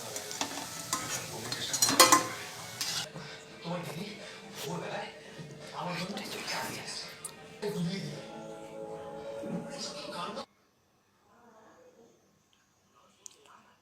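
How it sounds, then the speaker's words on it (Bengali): Drumstick flower pakora batter mixed by hand with mustard oil in a bowl, with wet squelching and stirring sounds, soft clicks and a louder knock early on, under a voice talking, then near silence for the last few seconds. "এরপর ঢাকাটা খুলে আরও একটু ভালোভাবে মেখে নিচ্ছি সর্ষের তেল দিয়ে"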